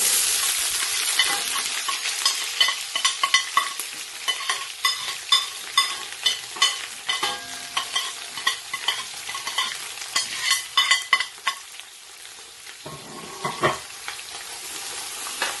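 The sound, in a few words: onion, chili, ginger and grated garlic frying in hot oil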